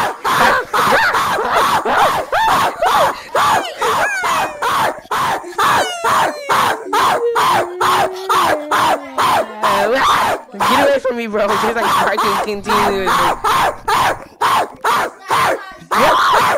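During a game of Among Us in Rec Room, a player's voice imitates a dog with a fast run of loud, rhythmic barks and growls, close to the mic, mixed with shouting from other players.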